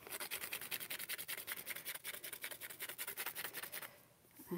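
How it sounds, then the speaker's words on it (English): Sanding on a watercolour painting, with quick, steady back-and-forth rubbing strokes in a fast regular rhythm, close and fairly quiet. The strokes stop near the end. "I'm going to do some sanding."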